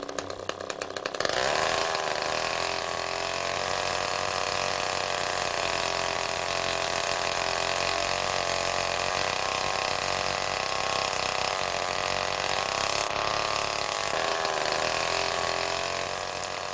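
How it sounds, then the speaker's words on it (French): A chainsaw engine converted to drive a motorized rope ascender starts up and then runs at a loud, steady high-revving drone for over fifteen seconds, close by, with no talking. "Le motocorde est construit à partir d'une tronçonneuse bricolée."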